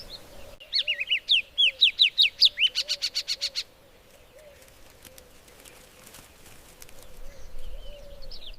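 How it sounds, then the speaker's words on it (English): A small brown honeyguide calls out in open grassland, giving a rapid run of sharp, repeated chattering notes that starts the clip and then stops, leaving a faint steady hum behind. "one small brown bird calling a killer across the grass to open a door he could never open alone"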